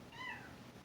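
A pet cat gives a single short, close meow with a rising then falling tone, heard alone in a quiet room.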